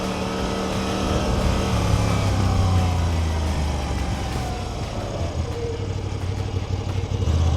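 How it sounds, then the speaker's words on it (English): A Moto Guzzi V85 TT motorcycle engine runs steadily while riding through Chicago's Pilsen neighborhood, a continuous low drone with shifting pitch as revs rise and fall, mixed with wind and road noise. "it sounds like an old bike"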